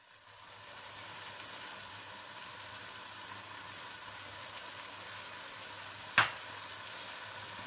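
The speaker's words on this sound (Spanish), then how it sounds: "Esto va a seguir friendo todo junto por un ratito." Salsa criolla frying in a pan, a steady, even sizzle that holds throughout at close range, with one sharp clink near the end and no voices.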